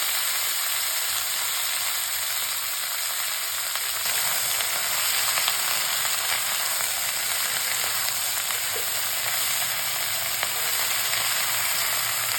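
Cut cabbage fries in a pan with mustard seeds, a loud steady sizzle that jumps up and stays dense and even throughout, with faint occasional crackles and no talking.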